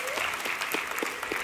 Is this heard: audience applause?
yes